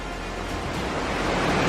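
A huge waterfall in Munduk, Bali, pours with a steady broadband rush that fills the air evenly and loudly, without pauses or voices.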